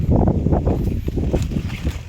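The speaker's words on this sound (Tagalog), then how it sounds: "medyo malakas yung hangin dito" Strong wind in a corn field buffets the microphone in a continuous low roar, with gusts swelling and easing throughout.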